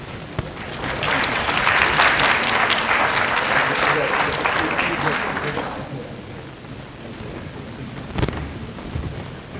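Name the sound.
audience applause after a public address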